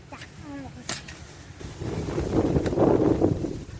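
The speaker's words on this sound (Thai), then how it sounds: "ทั้งฝนทั้งลมพายุเข้า" Strong wind gusts during a rainstorm at an open field where cassava is being dug, roaring broadband rush building in the second half and blustering against the microphone, with brief rustling knocks early on.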